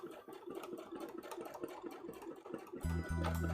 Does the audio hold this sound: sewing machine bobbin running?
yes